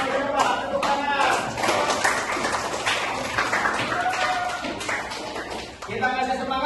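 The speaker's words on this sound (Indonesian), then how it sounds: "Tepuk tangan." Hand clapping and applause from a classroom group of students, busy uneven claps layered with voices talking over them, fairly close and loud.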